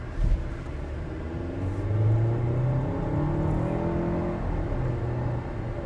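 A 2021 VW Atlas Cross Sport S, a large SUV with a 2.0-liter turbo engine, accelerating past with a rising engine drone and steady road rumble that swells and holds for several seconds.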